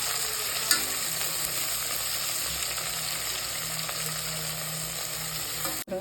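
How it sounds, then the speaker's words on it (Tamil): Chopped large onions frying in oil in a pan for vegetable biryani, giving a steady, loud, continuous sizzle close up with a faint clink near the start and a brief cutoff near the end. "பெரிய வெங்காயம் கட் பண்ணி வச்சுருக்கிறத போட்டுக்கலாம். கொஞ்சம் ஃப்ரை ஆகட்டும்."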